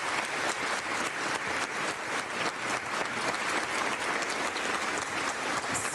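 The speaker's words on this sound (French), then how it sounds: "Écoutez ce moment où l'Assemblée de Corse a applaudi" Members of the Corsican Assembly applaud in a chamber, with steady, dense clapping that holds at the same loudness throughout and carries no voices above it.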